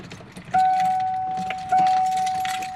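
Car keys jangle close by as the wrong key is tried in a car, with a steady electronic chime tone sounding twice through the rattling.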